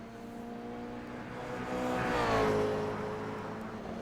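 Engine of a GR86 race car in the iRacing sim on the Chicago street circuit, with a steady drone that swells to a rising, revving peak near the middle as the car passes, then settles back down.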